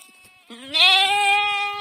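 A single sheep lets out a long, wavering bleat close by, rising sharply and then holding steady until the end.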